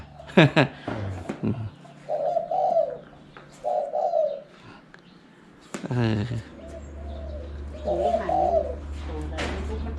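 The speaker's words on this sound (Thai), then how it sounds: "เสียงหองดีนะครับ นกตัวนี้" A spotted dove coos in several soft, low phrases, with pauses between them, while people talk nearby over a steady low hum.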